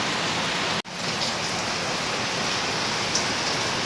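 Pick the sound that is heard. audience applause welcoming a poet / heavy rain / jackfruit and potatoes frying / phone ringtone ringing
heavy rain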